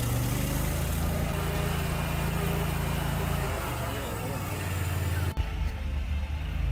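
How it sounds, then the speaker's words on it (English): A stump grinder drills and cuts through a tree stump with a loud, continuous motorized roar and grinding churn. The engine drops in pitch partway through, and a sharp knock comes near the end. "the machine is doing a crazy good job just drilling and cutting in through the stump"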